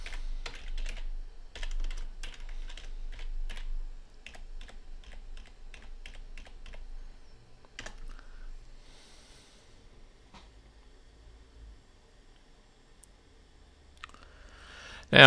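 Typing on a computer keyboard to log in, with bursts of close, crisp key clicks in quick runs, pauses between them, and a soft click near the end.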